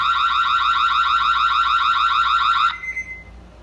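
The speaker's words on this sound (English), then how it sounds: "If you guys didn't hear the siren yet," A loud, piercing electronic siren from a Ring Floodlight Cam Wired Plus security camera wails in a steady warbling tone nearby, then cuts off abruptly, leaving faint background noise.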